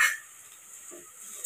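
Onions and lentils cook in a pan for keerai kootu, with a soft, faint sizzle and a light utensil scrape or stir, heard close and without talk.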